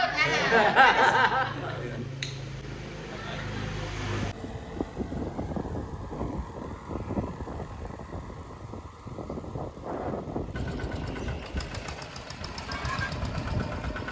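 A small farm tractor engine runs nearby on a rural road in Vietnam with a steady, rhythmic knocking chug, mixed with wind buffeting on the microphone and people talking over it.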